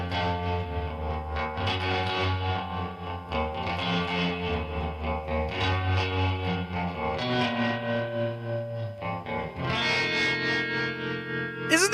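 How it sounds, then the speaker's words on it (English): Instrument signal run through a digital effects unit with spring-style reverb cranked up, giving a distorted, splashy, echoing wash of sustained notes and chords that plays continuously and loudly throughout, with no talking. "That sounds like a spring reverb."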